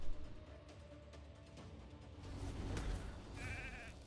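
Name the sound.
sheep bleating from polymorph effect in video game RAID: Shadow Legends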